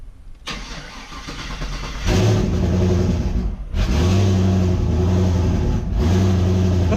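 A car engine cranks and catches, then runs and revs in repeated bursts with brief drops between, loud and close, settling into a rough, uneven idle.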